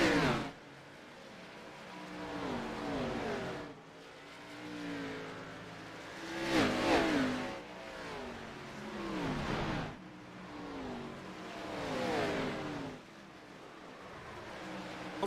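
Race cars accelerating hard at Bristol Motor Speedway after the green flag, several engines rising and falling in waves as the pack passes repeatedly, loud and continuous with no talk.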